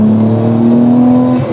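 A TOMEI-tuned Nissan Skyline R34 accelerates, its turbos giving a loud, close, steady whine that holds a single rising tone for about a second and a half before cutting off.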